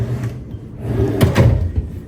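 A dresser drawer in a Disneyland Hotel deluxe studio room slides and bumps, with a couple of close, loud wooden knocks and scrapes in quick succession near the middle.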